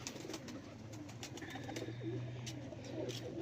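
Pigeons at a Lahore pigeon loft, Teddy pigeons among a batch of forty, give a low, throaty coo near the middle of the clip over a steady hiss of background noise.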